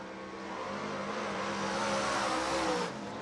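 A modified race car on a qualifying run roars loudly and steadily, engine note climbing through a sustained pass before dropping off near the end.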